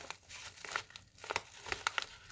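A large paper envelope for the Vogue 1527 sewing pattern crinkles close by in a few short, quiet bursts of rustling and crackling.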